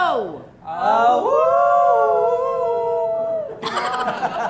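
Several people in a longest-howl contest imitate a dog's howl together, a long wavering group cry sustained for seconds, breaking into a burst of overlapping voices at the end.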